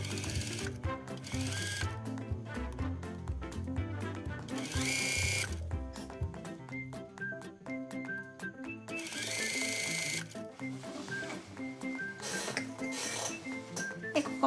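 A sewing machine stitches along the edge of a thick shirt cuff, a close, rapid mechanical whir with rhythmic needle clatter, running in bursts that pause and restart, with no talk.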